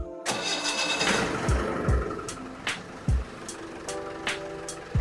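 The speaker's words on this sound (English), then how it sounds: "So let's start the Jeep and on the machine." Mahindra Thar jeep engine cranking and catching, then settling into a rough idle with several sharp thumps and rattles up close, no voices.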